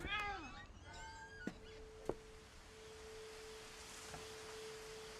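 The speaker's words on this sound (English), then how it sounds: "I hear a cat." Cat meowing in the video game What Remains of Edith Finch, a couple of faint rising meows at the start, then soft clicks and a thin steady tone under quiet room ambience.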